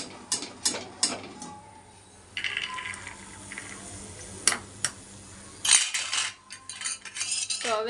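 Fried peanuts are spooned from a pan into a small bowl, giving a run of sharp metallic clinks and scrapes with quieter rattling in between, close by and with no voices.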